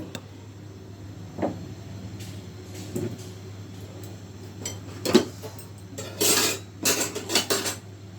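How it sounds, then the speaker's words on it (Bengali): A biryani cooking pot is set down on a stove: scattered metallic clanks and knocks of cookware, sparse at first, then a louder cluster of close clattering near the end, with no talking. "বিরিয়ানির হাঁড়িটা বসিয়ে দিলাম দিয়ে দিলাম তেল"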